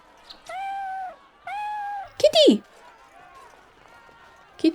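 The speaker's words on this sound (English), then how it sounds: "Kitty." Two drawn-out meows from a cat in Dragon Age: Origins, mid-pitched and fairly close, then a sharper rising-falling yowl and a short squeak at the end, with quiet game ambience between.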